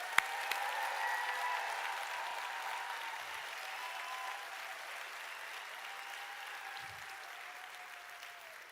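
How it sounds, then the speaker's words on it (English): Sustained applause from a graduation ceremony audience at Stellenbosch University fills the hall, a steady wash of clapping that slowly tapers over several seconds with no one speaking. "Come on, let's have another round of applause."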